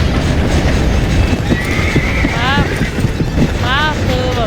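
In the Red Dead Redemption video game a horse gallops with steady clip-clop hoofbeats and neighs several times. The sounds are loud and close, with a voice speaking over them.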